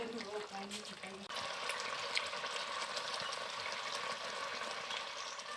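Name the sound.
cauliflower roast curry simmering in pan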